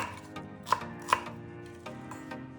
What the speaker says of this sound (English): Cut the onion into similar sizes.